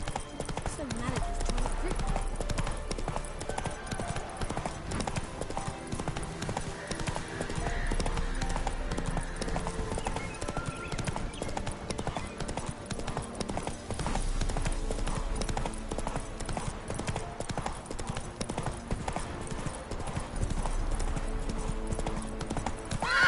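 Roach the horse gallops in The Witcher 3, with steady rapid hoofbeats running continuously under dense game sound throughout.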